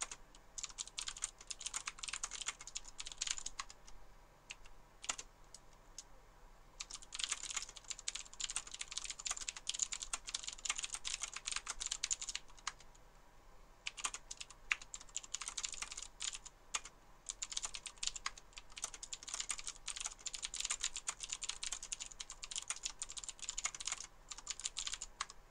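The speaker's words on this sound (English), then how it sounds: "I'm going to type it so that I don't mispronounce slash screw it up." Someone types on a computer keyboard, producing close, crisp clusters of rapid key clicks in irregular bursts with brief pauses between them, continuing for about 25 seconds with no talking.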